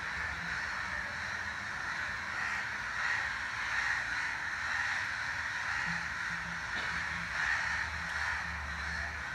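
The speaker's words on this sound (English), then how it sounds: "These crows are making a lot of noise tonight" Many crows caw steadily in the evening at an outdoor public talk in Bombay (Mumbai), their overlapping calls forming a continuous, fairly distant chorus with no voices heard.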